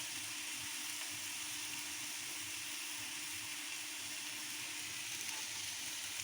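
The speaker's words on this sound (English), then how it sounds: "we're just going to add in all the pieces of meat now and nappy them, which means to douse them with butter" Venison pieces sizzle in a pan as they are basted with butter. A steady, hissing frying crackle holds at an even, moderate level throughout, with a faint low hum beneath.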